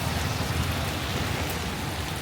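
Steady, dense rain falls during the Poson festival in Sri Lanka, an even close-up hiss of drops on surfaces with no voices.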